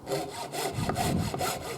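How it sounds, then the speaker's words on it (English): Hand saw cutting through wood, close rhythmic rasping strokes pushed out and back in, about four to five strokes in quick succession, loud and alone without talking. "we can start sawing out and back in"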